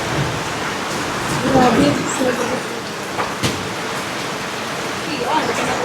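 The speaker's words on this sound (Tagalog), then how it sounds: "Grabing ulan." Heavy rain pours in a steady, loud broadband hiss that continues throughout, with people talking over it.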